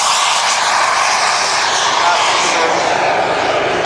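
Model aircraft engine droning steadily as the plane makes a slow, low flypast at a model flying event at Rufforth, a loud continuous broadband whine holding level throughout with no break.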